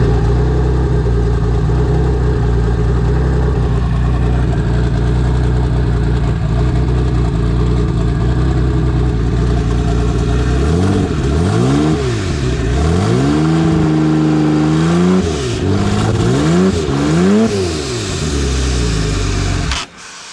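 A car engine cranks over, catches and runs with a steady loud drone, then is revved repeatedly in rising and falling sweeps before cutting out abruptly at the end.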